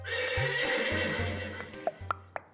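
A horse neighs in a comedic classroom scene: a long harmonic whinny over a low steady hum, followed by three short, sharp clicks near the end. No one speaks.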